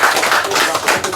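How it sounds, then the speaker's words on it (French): Crowd applause at a Cameroon Maracana 2024 football tournament ceremony, honoring the tournament promoter: dense, continuous clapping throughout a short burst, fairly loud and steady. "Il faut qu'on applaudisse très fort pour lui."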